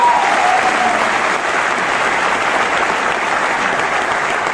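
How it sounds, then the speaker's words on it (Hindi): Loud, dense applause from a large audience fills the space without a break, a steady wash of many hands clapping at once with no pauses. "एक बार जोरदार तालियां"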